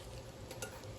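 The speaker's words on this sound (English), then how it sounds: "we're going to stir that in" Chili caldereta being stirred in a pot, a soft continuous scraping and gentle sizzle that stays steady and close for about a second with no voices.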